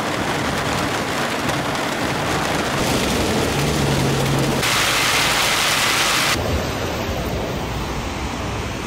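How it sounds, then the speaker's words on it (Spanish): Heavy rain pours down steadily in Puerto Rico, a dense loud hiss with no pauses, and traffic or thunder-like rumbling mixed in underneath. "Está lloviendo bien brutal."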